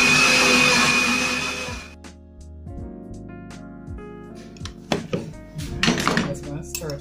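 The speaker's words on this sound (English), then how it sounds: "Alright, so I want to hit blend here." A kitchen blender whirring loudly as it purées Jamaican green seasoning with vegetable oil, a steady high motor roar for about two seconds that stops, followed by clinks and taps of utensils with talking.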